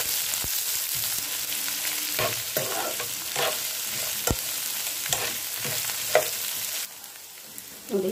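Chopped onions with dried red chillies frying in a pan, a steady close sizzle broken by repeated scraping stirs and a few sharp spoon knocks against the metal, with no voices.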